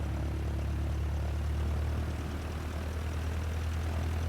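A Piper J3 Cub with a 65-horsepower engine drones steadily in flight, heard from inside the cockpit as a constant low propeller and engine rumble with no talking.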